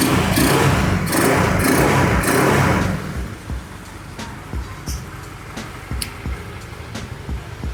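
Honda Vario scooter fitted with a CPO PE24 carburetor revs loudly for about three seconds, then drops to a lighter idle with irregular small blips and clicks, heard close up.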